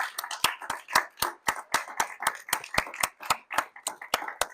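Steady applause from a small group at a filmmaker talk in Cleveland, regular sharp claps over a faint murmur of voices, fairly close and moderately loud.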